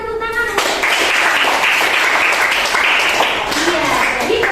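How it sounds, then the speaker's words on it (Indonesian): Classroom applause at an Indonesian senior high school, a dense burst of many hands clapping that starts abruptly after a brief spoken lead-in and holds steady and loud throughout, with a few voices mixed into the clapping. "Berikan tepuk tangan."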